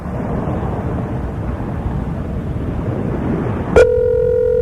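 A telephone call being placed to a McDonald's restaurant: steady broadband line noise fills most of the stretch, then a sudden click gives way to a clear, sustained dial tone near the end, with no talking.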